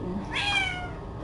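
A kitten gives a single short, high meow up close, clear against a quiet room.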